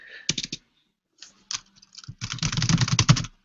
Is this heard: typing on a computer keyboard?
yes